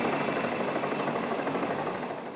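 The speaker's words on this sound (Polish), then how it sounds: "Po południu nad Wrocławiem pojawiły się helikoptery." Helicopters flying over Wrocław, a steady loud rotor and engine drone that fills the whole stretch without letup.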